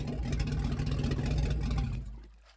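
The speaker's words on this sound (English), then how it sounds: "The man turns the engines down, and the rough, roaring sound dies away." Boat engines roar at sea with a rough, steady low drone, then wind down and fade away near the end as the engines are throttled back.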